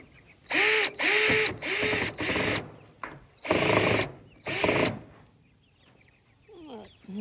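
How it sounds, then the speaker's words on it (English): Power drill driving screws back into a wooden chicken tractor: six short whirring bursts with brief pauses between, close and loud, then quiet with a faint outdoor sound at the end. "we're going to put our screws back in."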